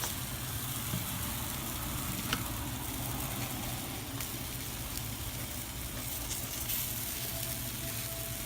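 Chile rellenos coated in egg batter fry in a pan with a steady, dense sizzle that holds evenly throughout, with a few faint clicks and no talking.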